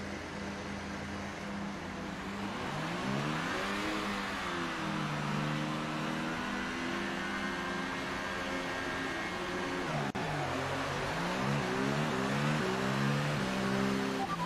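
An F1 2018 race car engine in a video game revs hard and steadily at the Monaco Grand Prix, pitch climbing and dropping through gear changes with a brief sharp shift near the middle, loud and continuous with no talk.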